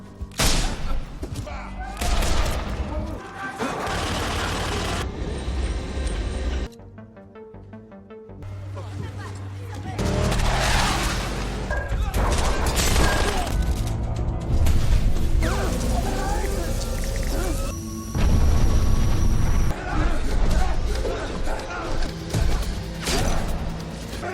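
Loud gunfire and blasts from a fierce battle in the film Soulcatcher, dense bursts and booms layered with a dramatic soundtrack and a few voices, with a brief quieter lull partway through.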